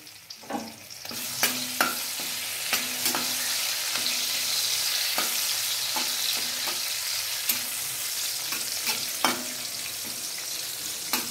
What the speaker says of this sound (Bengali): কাজু কিশমিশটা একটু ভাজা ভাজা হয়ে যায়